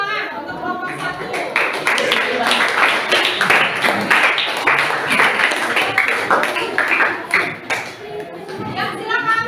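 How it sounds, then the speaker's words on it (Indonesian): A classroom group applauds together after classmates finish presenting their discussion results, dense clapping sustained throughout, loud and close, with children's voices chattering over it. "kita beri tepuk tangan untuk kelompok 1"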